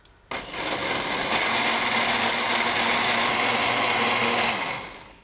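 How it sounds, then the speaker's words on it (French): An electric blender runs steadily for about five seconds, puréeing a cold avocado soup with apple juice, milk and pepper; a loud, even whirring drone starts abruptly and holds close and alone until it winds down. "on le met directement dans le blender"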